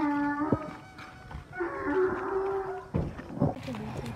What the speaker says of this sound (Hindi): फिलहाल गधा बोलने की एक आवाज़ आ रही है।